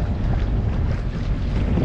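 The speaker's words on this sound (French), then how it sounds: "On a déjà un peu plus de vent." Strong wind buffets a sailboat out at sea, a loud, steady roar of gusts across the microphone, with no voices.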